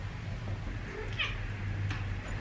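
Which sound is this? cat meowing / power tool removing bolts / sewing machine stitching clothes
cat meowing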